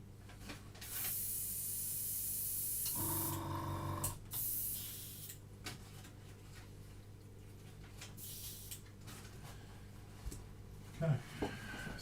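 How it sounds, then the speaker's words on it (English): Airbrush spraying scale model paint gives a brief, steady hiss lasting about a second, close and fairly loud, followed by quieter clicks and handling sounds. "Might just keep using this airbrush actually, since it's"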